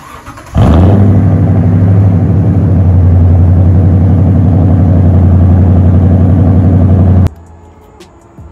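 Car fitted with a loud, aggressive aftermarket exhaust barks into a hard rev, holding a deep, booming drone for several seconds before cutting off abruptly to quiet idle.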